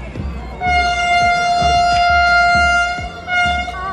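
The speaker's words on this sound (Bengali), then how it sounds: "ফাইনালি প্রবেশ করলো বন্দে ভারত এক্সপ্রেস 2 নম্বর প্ল্যাটফর্মে ধুপগুড়িতে" Arriving at platform 2 of Dhupguri station, the Vande Bharat Express sounds a loud, sustained horn over a heavy rumble and rhythmic clacks of wheels crossing rail joints.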